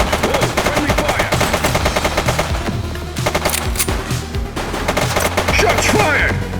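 Rapid automatic gunfire in The Precinct video game, sustained bursts of shots rattling steadily across the clip with brief pauses, loud and close amid other in-game noise.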